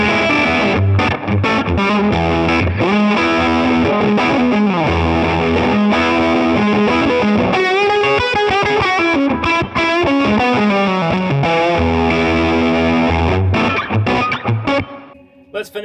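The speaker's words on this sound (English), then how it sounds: "As you lower the fuzz down and the level, you can get a really nice chewy kind of overdrive." Electric guitar runs through a fuzz pedal with the fuzz and level turned down for a chewy overdrive tone, played loud and continuously with sustained distorted chords and riffs for about fifteen seconds before trailing off.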